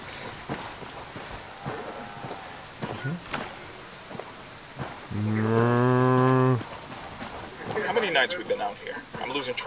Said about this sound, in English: there's a load of cows in the field